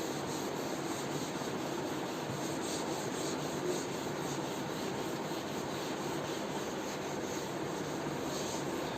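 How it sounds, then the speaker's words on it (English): A board is rubbed clean, giving a continuous, even rubbing hiss that stays steady and fairly quiet throughout, with no talk. "I rub the board."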